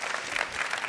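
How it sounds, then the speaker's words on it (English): A forum audience applauds the people on stage, a brief, even patter of many hands clapping in a large room, with no voices. "maybe also a little applause for the people doing that on stage"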